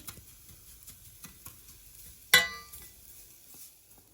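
Roasted kadayif pastry stirred in melted butter in a pan, with soft scraping and faint sizzling, light rhythmic strokes and one sharp clink of a utensil against the pan partway through, quiet and close.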